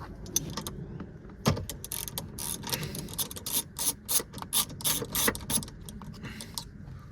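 A ratchet wrench works a 9/16 seatbelt bolt loose inside a 2006 Toyota 4Runner, fourth generation, giving close, rapid bursts of dry metallic clicking with short pauses between strokes and no talking.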